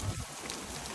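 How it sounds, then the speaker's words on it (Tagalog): Heavy rain pours down steadily in a dense, even hiss of drops on surfaces, with no break throughout. "biglang bumuhos ng bongga yung ulan"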